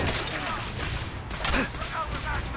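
Dense video game gunfire in Fallout 4 from a firefight in a control room, heard as a continuous rattle of shots under a busy mix of voices and combat noise.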